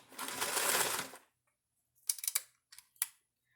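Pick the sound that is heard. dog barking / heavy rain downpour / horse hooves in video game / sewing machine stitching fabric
sewing machine stitching fabric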